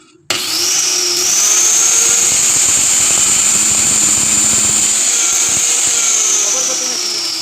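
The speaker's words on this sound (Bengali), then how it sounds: "এই যে দেখুন মেশিনটা ঠিকঠাক চলছে" A repaired CM4 electric cutter machine runs steadily after a switch replacement, starting abruptly with a loud, continuous high-pitched motor whine that holds level to the end.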